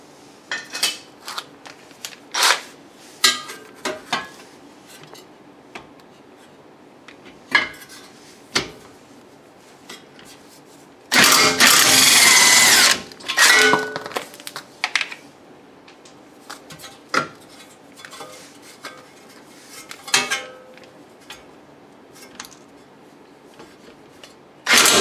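Two 17 mm bolts being removed from the front suspension of a 2001 Lexus IS300: scattered metallic clinks and taps of tools and parts, with a dense burst of ratcheting or rattling noise partway through and no talking.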